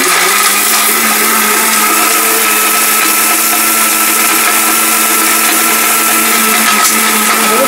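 A powerful mixer grinder runs at full power, a loud, steady, high-pitched motor whine with grinding roar that holds constant and alone throughout.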